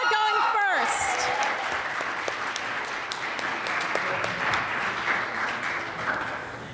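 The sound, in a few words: audience applause at open mic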